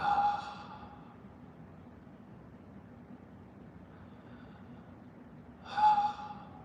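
A person taking two deep breaths, each a clear close inhale or exhale at the start and end, with a quiet low background hum in between.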